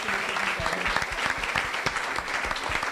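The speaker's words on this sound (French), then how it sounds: "vous pouvez les applaudir bien sûr une dernière fois s'il vous plaît" Steady applause from a round-table audience, dense clapping that stays loud and even throughout without a break.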